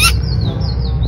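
A wild bird in a grassy area calls back in answer to a mouth bird whistle: a brief squawky chirp and faint tweets close by, over low background rumble.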